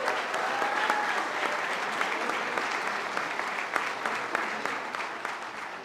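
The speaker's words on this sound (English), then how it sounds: "Let's do a round of applause for 5 years of service." A room full of people claps steadily for employees marking five years of service at a workplace recognition event, the dense applause holding even throughout, with a few sharper claps poking out near the end.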